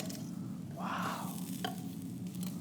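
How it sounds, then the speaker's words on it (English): Fat from a rich skirt steak drips onto hot charcoal in an outdoor grill and flares up, giving a soft crackling sizzle and a brief rushing whoosh of flame near the start. "the fat of the steak, because the steak is very rich, dripped on the coal and started the flame again"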